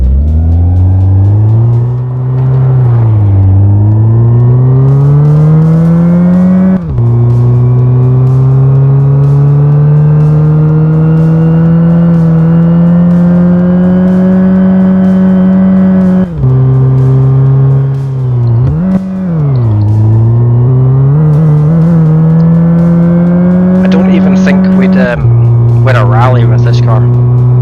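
An underpowered truck engine in the My Garage driving game drones steadily and loudly, its pitch rising and dipping with throttle changes and briefly cutting out a few times, with a person talking over it.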